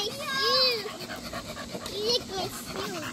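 Several bull-breed dogs pant rhythmically outdoors near children, quick breathy huffs mixed with high, wavering children's voices and speech throughout.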